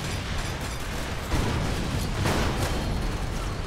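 Grenade blast in the shooter Far Cry 2, a broad rumbling burst with a noisy, crackling tail that swells twice over a few seconds, loud and close, no voices.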